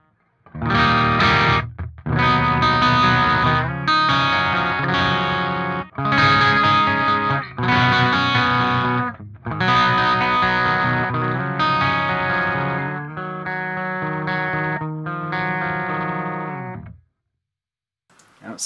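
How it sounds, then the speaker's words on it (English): Clean preset on an STL Tonehub PVY Vector amp simulation, played on electric guitar in ringing chords and short phrases with chorus-like shimmer, sustained and loud, separated by brief pauses and fading to silence near the end. "check out the clean preset on channel 2"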